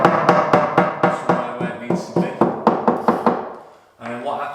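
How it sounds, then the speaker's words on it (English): Plasterboard being knocked into place on a partly screwed stud wall, a fast run of about a dozen sharp, close hollow knocks in steady rhythm, then a short pause before a murmur of talk. "I'm just going to knock it in"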